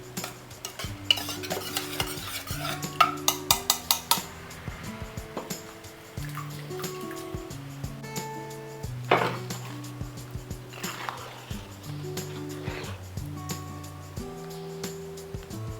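Cooked dal and tomato are tipped from a pressure cooker into a pan for sambar, with a quick burst of metallic taps and clanks, a wet slosh, then quiet stirring scrapes under steady background music.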